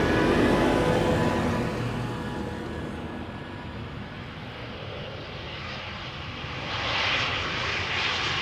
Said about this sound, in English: Got another tractor passing by, that's what you will be hearing right now.